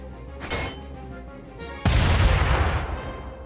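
Hot Needle weapon firing in Front Mission 2 Remake, a single heavy, close blast at about the two-second mark with a long noisy roar that slowly fades, following a softer burst earlier.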